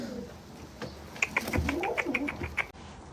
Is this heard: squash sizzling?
no